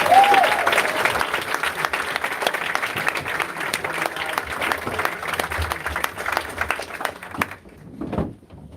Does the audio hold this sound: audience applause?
yes